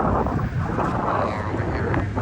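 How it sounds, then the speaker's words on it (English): Outdoor wind buffeting a microphone beside downtown Los Angeles freeway traffic, a steady loud rumbling roar that persists without break for the whole stretch. "It's getting a little windy right now too."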